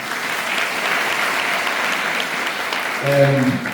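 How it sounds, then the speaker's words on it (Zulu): A crowd claps steadily in sustained applause at a University of Zululand regional council gathering on Dlangezwa Campus, with a voice briefly rising over it near the end. "Ngicela ukuthi nabo sibaphe ihlombe elikhulu kakhulu."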